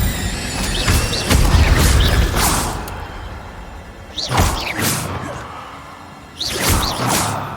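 The Incendio fire spell in Hogwarts Legacy is cast three times, each a loud whooshing burst with a booming impact over busy game noise.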